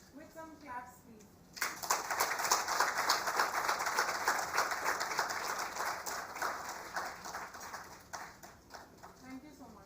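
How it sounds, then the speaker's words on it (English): An award ceremony audience claps for an honoree, a steady wash of many hands that begins abruptly after a short spoken call and slowly thins toward the end, with voices talking underneath. "With some claps, please."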